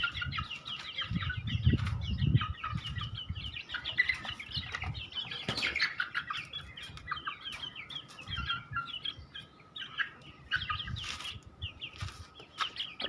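Young Aseel chicks feed on grain, giving quiet scattered peeps and clucks with soft pecking taps and a brief flutter, all fairly faint.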